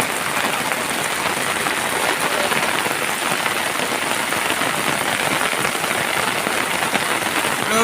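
Heavy rain pours down steadily, a dense, loud hiss of drops hammering a surface with no letup.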